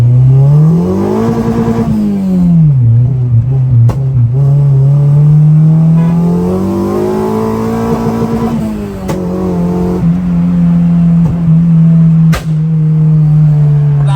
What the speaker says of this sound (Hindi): K24 EG फेरियो की टेस्ट ड्राइव लेने